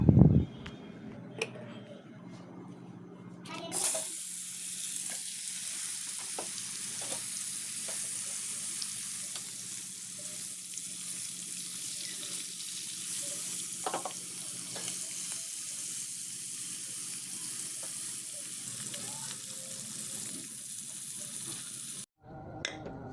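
Fish coated with salt, turmeric and chili powder frying in oil makes a steady, moderate sizzle for most of the time, with scattered clinks and a brief louder clatter at the start.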